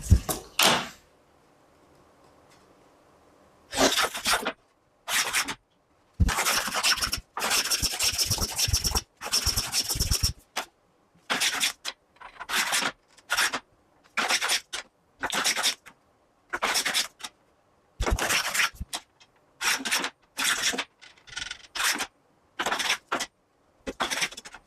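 A curved wooden rib for an oud soundbox is sanded by hand in short repeated bursts of dry scratchy rubbing, loud and close, separated by brief pauses and uneven in length.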